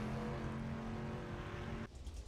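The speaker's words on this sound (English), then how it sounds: "I may have to bring this engine noise down a little bit." A race car engine drones loudly in the iRacing sim on a dirt oval, a steady sustained tone that cuts off abruptly near the end, leaving rougher, uneven engine noise.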